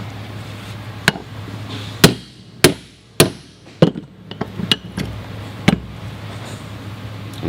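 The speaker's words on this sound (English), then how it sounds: "Using a 6-point staking tool." A 6-point staking tool is struck with a hammer to stake an automotive AC compressor clutch bearing. About ten sharp metallic blows land close by at uneven intervals, some single and some quick pairs, over a low steady hum.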